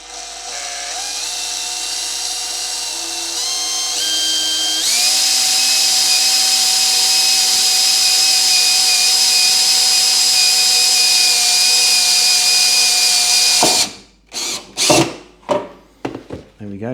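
An electric drill on its slower speed setting bores a pilot hole through the body of a Rancilio Silvia espresso machine, with timber bracing behind. A loud, steady whine climbs in pitch as it runs, then cuts into several short bursts at the end.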